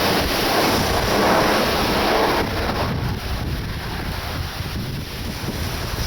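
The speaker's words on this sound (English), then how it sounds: "High wind still here at Leeds Bradford." High wind at Leeds Bradford airport roars continuously as loud, buffeting gusts strike the microphone, drowning everything else for the whole stretch.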